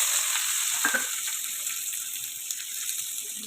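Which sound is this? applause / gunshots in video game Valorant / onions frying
onions frying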